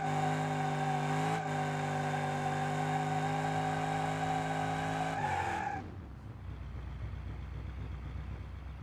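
A Moonhawk car in BeamNG.drive holds a steady, loud engine drone with a rich harmonic whine, then the pitch sags and the tone breaks into rough tire and road noise as the car slows.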